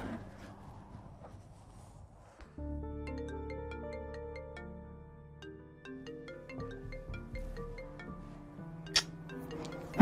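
A mobile phone rings with an incoming call, its melodic ringtone playing a repeating tune of clear tonal notes, fairly quiet and steady, after a brief stretch of low room noise.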